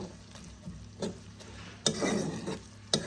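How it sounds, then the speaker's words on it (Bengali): Spices for ghugni are stirred in a pan with soft scraping strokes over a low, steady sizzle, heard close and fairly quiet, with no voices. "ভালো করে নেড়ে নেব।"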